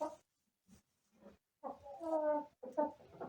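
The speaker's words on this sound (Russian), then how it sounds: "Молодая курочка." A young hen clucks close by in short, soft bursts, then a longer run of rising, throaty clucking notes with brief pauses between.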